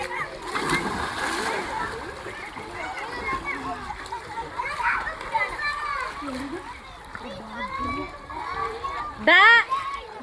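Children splash and play in a swimming pool, sloshing water close by throughout. Their excited voices and other chatter run over the splashes.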